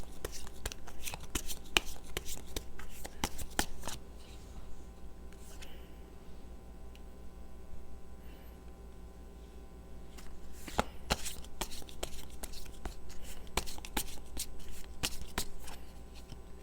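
Tarot cards being shuffled by hand, bursts of crisp riffling and slapping in repeated runs with short quieter pauses between, close up.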